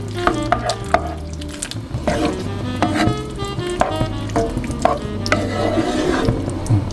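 Beef broth gravy being stirred in a pan, with sizzling and wet spoon scrapes clinking against the metal in an uneven rhythm, close and fairly loud.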